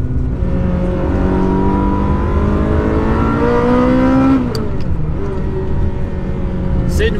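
A Ferrari sports car's engine revs hard while driving, its pitch climbing steadily for several seconds before dropping sharply at a gear change and building again, loud and close as if heard from inside the car.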